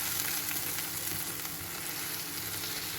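Scrambled eggs sizzle and crackle steadily in a hot frying pan, a close, continuous frying hiss with occasional stirring.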